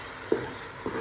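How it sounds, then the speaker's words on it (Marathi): Chicken biryani masala fries quietly in a pan, a soft steady sizzle broken by two brief scrapes of stirring, close and faint. "हे बघा छान मस्त फ्राय करून घेतलं"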